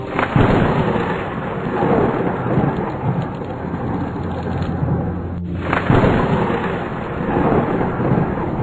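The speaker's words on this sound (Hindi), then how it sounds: "बहुत बारिश हो रही थी, बिजलियां जोर जोर से कड़क रही थी।" Heavy rain roars steadily while deep thunder rumbles and cracks loudly through the storm, with a brief lull midway before the downpour surges again.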